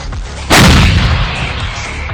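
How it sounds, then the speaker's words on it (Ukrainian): One enormous artillery blast booms nearby, an abrupt loud report whose rumbling echo lingers and slowly decays. "Гармата!"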